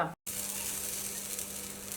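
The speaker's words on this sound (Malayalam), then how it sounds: "ഇപ്പോൾ തേങ്ങ ചെറുക്കിയത് നല്ല ബ്രൗൺ കളർ ആയിട്ടുണ്ട് ഇനി നമുക്കിത് ചക്കപ്പുഴക്കിലേക്ക് ഇടാം" Coconut pieces fried brown in oil, added to jackfruit puzhukku, hiss in a steady, close sizzle after a brief silent break, with no talk over it.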